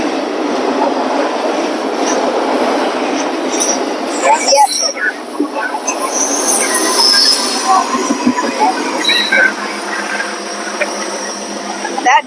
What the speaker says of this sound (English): it was a pretty long train for just one engine in the back and one in the front